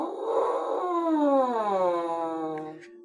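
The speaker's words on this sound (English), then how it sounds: "You want to try making a siren sound using just your mouthpiece, just like Jenny did" A buzzy brass-like siren tone played on a French horn mouthpiece alone, sweeping smoothly from low up to high and back down, a single continuous slide lasting about three seconds.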